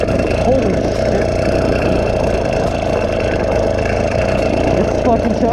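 A motorized bike engine chugs loudly and continuously right after a cold start, a steady rough rattling drone with no pauses.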